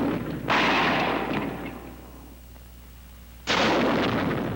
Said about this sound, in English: When the rocket fires, the launcher doesn't jump back.